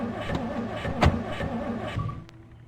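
A car being hotwired and started in the zombie survival game Project Zomboid: a steady engine drone with a sharp ignition burst near the start, settling into an even running hum that fades toward the end.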